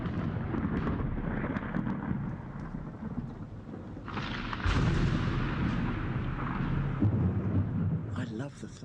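Thunder rolls through a rainstorm as a loud, sustained rumble with a sharp crack midway, heavy rain hissing steadily underneath, close and full throughout.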